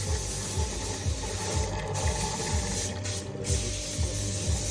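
Water being pumped through a car's cooling system during a coolant change, a steady mechanical whir with low pulsing throb and hissing, continuous and fairly close.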